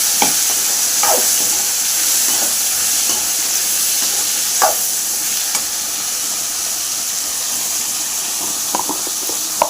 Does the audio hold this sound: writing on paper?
no